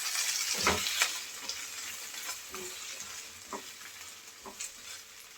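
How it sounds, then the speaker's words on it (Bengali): Prawns frying in oil with onion and green chilli, a steady close sizzle with a few sharp stirring scrapes of a utensil against the pan. "পেঁয়াজের সাথে চিংড়ি মাছ একটু ভেজে নেব"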